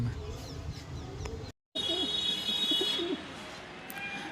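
Racing pigeons coo softly in a loft or yard, with low repeated calls under faint background noise and a brief dropout midway.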